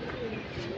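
Pigeons coo in a soft, rolling murmur over a brief moment, close by and moderately loud, with no voices over them.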